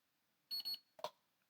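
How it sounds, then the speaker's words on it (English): Two quick electronic beeps in close succession as an OBD scanner powers on, crisp and high-pitched, followed by a short click-like tone in an otherwise quiet room. "Double beep."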